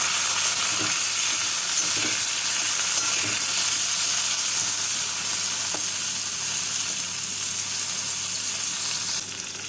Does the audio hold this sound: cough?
no